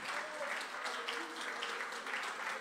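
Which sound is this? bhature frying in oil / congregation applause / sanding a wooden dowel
congregation applause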